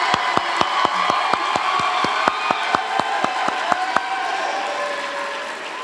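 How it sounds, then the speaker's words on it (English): A film festival audience claps and cheers steadily, with crisp individual claps standing out in a loose rhythm over the crowd noise, which tapers off near the end. "Let's give them a round of applause."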